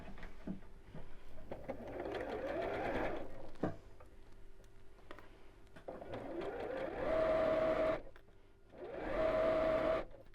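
A sewing machine stitches fabric into a tube for a twisted infinity scarf, running close in several whirring bursts with short pauses between them, and the motor hums steadily during the longer runs.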